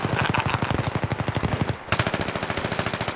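Rapid automatic gunfire rattles in tight, loud bursts in Battlefield 3, rounds punching through walls, with a brief pause before the fast shots resume.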